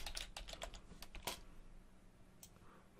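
Quick bursts of typing on a computer keyboard, a rapid run of close, crisp key clicks in the first second and a half, then sparse taps, fairly quiet with no talk.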